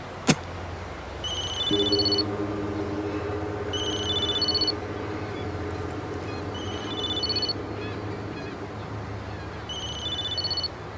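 A telephone rings in four evenly spaced bursts of a repeated electronic bell tone, moderately loud over a steady low hum, with a sharp click at the start in a tense indoor scene from a Turkish crime drama.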